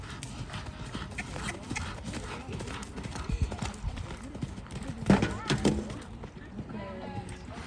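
Hooves of a pony clip-clopping during a show-jumping competition on a hot day, a rhythmic gait with a whinny, heard under a rider talking in French.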